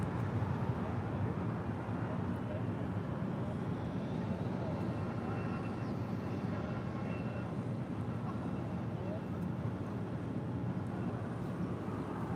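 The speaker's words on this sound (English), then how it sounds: "That was Norse headed out to London Gatwick on a 787-9 Dreamliner" A Norse Boeing 787-9 Dreamliner departing LAX for London Gatwick, a steady broad jet roar heard from a distance with wind noise, continuous throughout with no voices.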